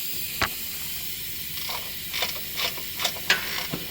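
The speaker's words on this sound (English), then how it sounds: "gear wrench and swivel, so it'll be easier for you to get to this bolt" Gear wrench ratchet with a swivel turning a bolt under a 2007-2008 Acura TL 3.2L while engine and transmission mounts are replaced, a handful of short clicking ratchet strokes over a steady hiss, close and moderately loud.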